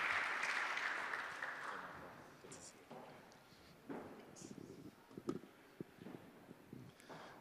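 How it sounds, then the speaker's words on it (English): Audience applause at a pitch competition summit in London, a burst of clapping that starts full and gradually fades away, followed by scattered sparse claps and faint voices and movement in the room. "Round of applause for Michael."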